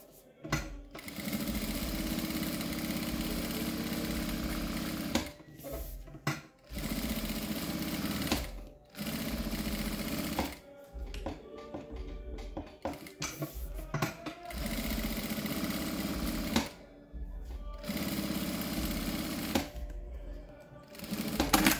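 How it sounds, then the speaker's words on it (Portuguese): A sewing machine stitches the fabric lining into a cosmetic bag, running in long steady bursts of rapid mechanical chatter, stopping briefly several times between runs, loud and close. "Coloco o forrinho aqui, eu vou costurar toda a volta"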